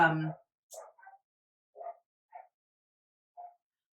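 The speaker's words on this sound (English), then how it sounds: "My neighbors apparently have let out their dog," A few faint, scattered dog yips and barks sound in the distance after a brief burst of close talking, spaced irregularly over a few seconds.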